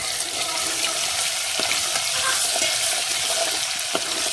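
Crushed garlic and ginger fry in hot oil for a village-style egg curry, a loud, steady sizzling hiss broken by occasional stirring clinks.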